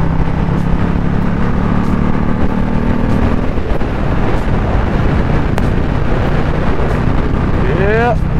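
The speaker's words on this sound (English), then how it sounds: "Just the way the wind blowing." Wind roaring past a rider on a Yamaha Stratoliner Deluxe motorcycle: a loud, constant buffeting rush over the mic with a low engine-like rumble beneath, unbroken throughout.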